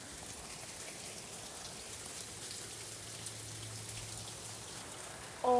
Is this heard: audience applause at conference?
no